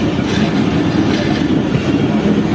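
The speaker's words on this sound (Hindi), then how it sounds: "और सामने से ही आ रही है 1 अप खैबर मेल" The 1 Up Khyber Mail passenger train rumbles loudly into Nasirpur railway station, with a steady roar of wheels and carriages and a rhythmic clickety-clack close by.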